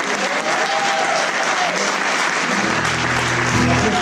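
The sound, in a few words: audience applauding the musicians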